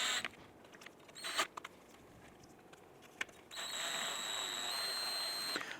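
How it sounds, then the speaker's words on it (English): A small power tool buzzes in a steady, fairly quiet run as screws are started into the metal grille beam of a 2005-2007 Ford Five Hundred, after a few sharp clicks and handling taps. "Go ahead and get all of our screws started here."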